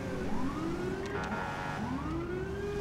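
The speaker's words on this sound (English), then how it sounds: "It is a ambulance, okay." An ambulance siren wails in GTA V with the LSPDFR mod, rising and falling sweeps that sound fairly distant and steady throughout, with no talking over it.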